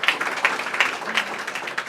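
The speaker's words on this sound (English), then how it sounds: "Christine Crouch, who also deserves a big round of applause" An audience claps for Christine Crouch at an Exelon Foundation STEM partnership event at Aurora University, a brief, moderately loud patter of many hands in a hall.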